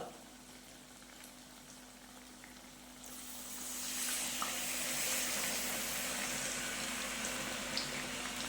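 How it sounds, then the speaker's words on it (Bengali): Water poured into a pot of chicken korma sets off a low simmering hiss that swells into a louder, steady bubbling boil after a few seconds, close and continuous. "এবার দিয়ে দিচ্ছি জল।"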